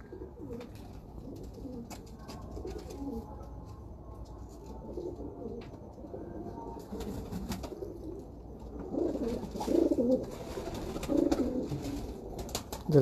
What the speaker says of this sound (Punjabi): ਇੱਕ ਮੇਰਾ ਹੋਰ ਮੋਸਟ ਫੇਵਰੇਟ ਸਲਾਰਾ ਕਬੂਤਰ